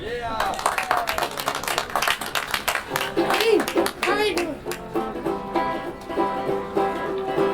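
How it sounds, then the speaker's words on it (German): Spontaneous applause from a street audience in a pedestrian zone in Speyer, with dense clapping and some cheering, loud and near, while a voice talks over it. "Spontaner Applaus."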